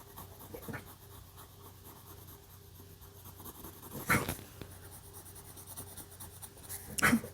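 Red marker coloring in a crab drawing on paper, a soft, steady, close scratchy glide against a quiet room, with two brief louder bumps.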